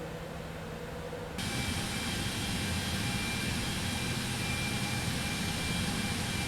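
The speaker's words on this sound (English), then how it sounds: "So taxiing now, we're heading to runway 10 for a eastbound departure out of Niue." Aircraft engine noise while taxiing in Microsoft Flight Simulator 2024 toward runway 10 for an eastbound departure from Niue, a steady broadband jet roar that swells after a quieter start and then holds loud and constant.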